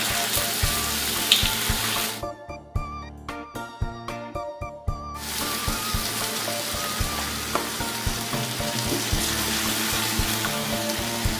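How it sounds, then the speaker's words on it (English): Liquid poured into a hot pan of browned beef stew meat for Spanish beef estifado, deglazing with steady loud sizzling and bubbling throughout, a brief quieter gap with clinking pan sounds before the sizzle resumes. "I love to deglaze all the bits that have got a little bit stuck to get lots of good flavour."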